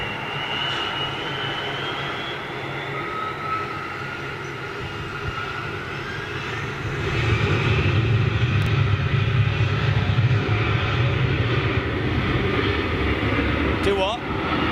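An Embraer 175 jet with General Electric CF34 engines roars steadily overhead, the engine noise swelling louder midway and holding, with people talking faintly beneath it.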